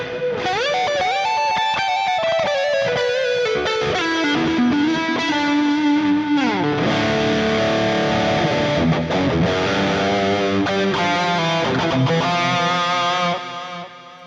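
A Flamma E1000 electric guitar played through a digital delay effect, with distorted notes and bends that repeat and smear into one another, the sustained tone loud and continuous before fading at the end.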